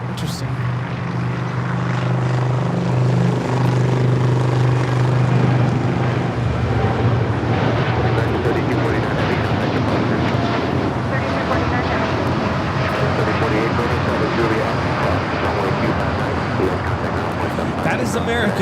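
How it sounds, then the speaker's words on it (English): American Airlines Boeing 787-9 Dreamliner taking off from LAX, a loud continuous jet engine roar building and spreading into broadband rumble for nearly twenty seconds, with wind buffeting and some talk underneath. "3249 taking off to Chicago on the 787-9 Dreamliner"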